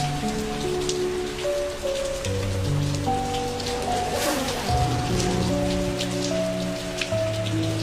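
Steady rain patters on a surface under soft sustained music, with a low rumble partway through.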